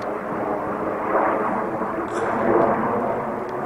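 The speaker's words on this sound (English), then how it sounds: "I've been seeing a lot of military planes flying over here" Military airplanes flying overhead outdoors, a steady broad roar of jet engines with a slow swell and fade as they pass, fairly distant, with no talking.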